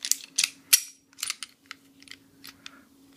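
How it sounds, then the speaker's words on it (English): Steel slide of a Ruger LC9 pistol being slid back onto its frame over the recoil spring, a series of close, sharp metallic clicks and scrapes in uneven bursts over a low steady hum. "You're just going to put the recoil spring back in there in a groove, slide it back on the firearm"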